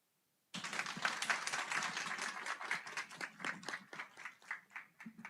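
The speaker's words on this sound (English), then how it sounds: "Another round of applause for Dr. Dresner" Audience applause after a presentation at a retreat, starting abruptly and filling the room with dense clapping that thins into scattered individual claps toward the end.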